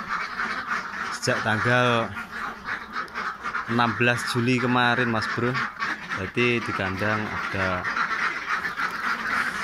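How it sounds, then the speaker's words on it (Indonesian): Bayah ducks in their pen quack in the background while someone talks steadily over them, his voice louder than the birds. "Ini bebek kita di kandang"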